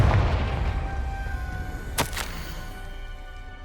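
The Confringo explosion spell in Hogwarts Legacy goes off as a single sharp blast over a low rumbling game soundscape, followed by a quick secondary crack.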